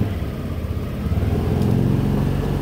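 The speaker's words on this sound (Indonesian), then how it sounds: "Coba digas dulu." A Yamaha NMAX scooter engine, hard to start, hums steadily and then rises slightly as the throttle is opened, a close, continuous mid-pitched drone.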